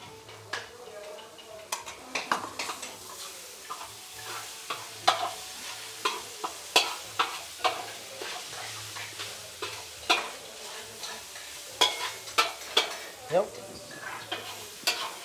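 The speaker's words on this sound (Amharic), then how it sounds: "እዚህ የበከል ጥብስ እየጠበስን ነው ከሜሮን ጋር።" Bekel tibs, goat meat frying with butter in a pan, gives a constant sizzle broken by frequent clinks and scrapes of a utensil stirring against the pan, close and busy.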